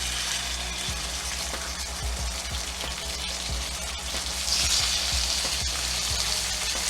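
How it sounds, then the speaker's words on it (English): A NY strip steak sears in a stainless steel pan, giving a steady loud sizzle and crackle with occasional low thumps, close and continuous. "Now you're searing this, don't touch it, right?"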